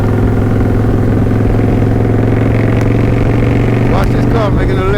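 A motorcycle engine in fourth gear cruises along a freeway, a steady, close drone with continuous road and wind noise and a few brief rising tones near the end.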